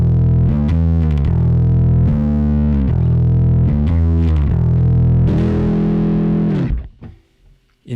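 A second distortion drive preset on a Quad Cortex shapes a loud, saturated electric guitar riff of chugging chords that closes on a held chord before a sudden stop and brief silence.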